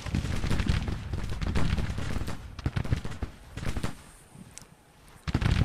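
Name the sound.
gunfire from soldiers in a war video game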